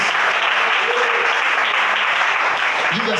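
A church congregation claps steadily together during an evening worship service, a dense, continuous wall of applause that fills the room without pause.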